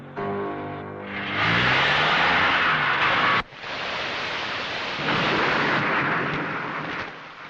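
Heavy rain pours steadily while a deep roll of thunder rumbles, with a sharp crack partway through and the downpour continuing after.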